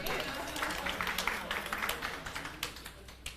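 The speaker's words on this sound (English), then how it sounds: "Round of applause for that." An audience at a civil service public forum claps in a steady patter of applause, moderately near and fairly quiet, fading slightly over a few seconds.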